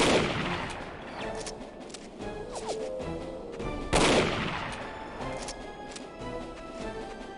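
Gunfire in a video game: repeated shots and bursts over a busy, continuous backdrop, with one especially loud, sharp blast midway, close and fairly loud throughout.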